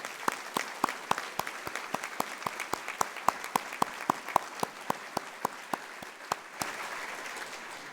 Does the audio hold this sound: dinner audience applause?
yes